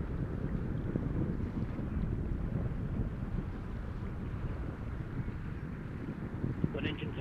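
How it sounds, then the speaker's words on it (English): Orion launch rocket's first-stage engines with port and starboard boosters firing in flight two minutes after liftoff, a dense continuous low roar with steady rumble throughout and no talk. "Good engine control on the first stage."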